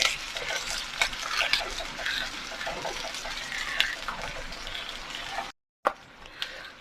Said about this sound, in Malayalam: ഈ ചതച്ച് വെച്ചിട്ടുള്ള ഉള്ളി വെളുത്തുള്ളും കൂടിയിട്ടുള്ള സാധനം എടുത്തിടുക. എന്നിട്ട് ഇളക്കുക